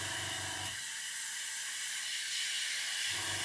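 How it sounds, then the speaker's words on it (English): An airbrush fed by a compressor set to about 18 psi sprays a test patch of paint on a scale model, its nozzle spattering; a steady close hiss runs throughout while a low compressor hum drops out briefly in the middle. "So I've got the compressor set on about 18 psi. We'll just do a little test patch first."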